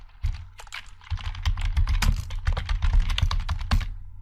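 Rapid, uneven clatter of keys being typed on a computer keyboard to enter a command in a terminal, close and steady for about four seconds with no voice.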